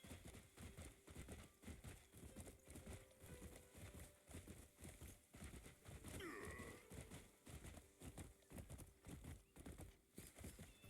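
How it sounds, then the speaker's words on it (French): A horse in the video game Crimson Desert trotting with rhythmic, steady hoofbeats that run the whole way through, and a neigh rising partway through over the galloping. "c'est un cheval de Skyrim le bordel"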